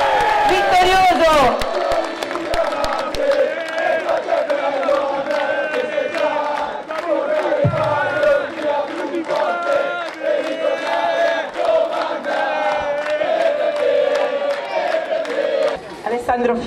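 Crowd at the Palio dell'Assunta cheering and chanting for the winning rider, loud rhythmic singing and shouting with scattered clapping, voices swelling continuously close by.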